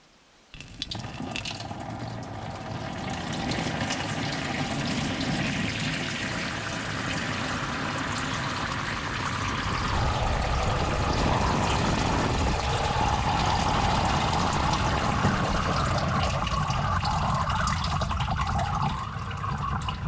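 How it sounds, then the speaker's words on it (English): Coolant is pumped through a homemade mill cabinet's cooling system, giving a continuous splashing, gushing flow of liquid like a running tap that starts abruptly and carries on steadily at close range for about twenty seconds. "so it's going to be harder to push the water or the coolant through than it is water"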